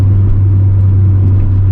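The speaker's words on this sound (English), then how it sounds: "that was Integra ASMR, because you can't hear anything over this car" A stock Honda Integra's engine drones heavily inside the cabin while cruising, a loud, steady low hum with road rumble and no talking.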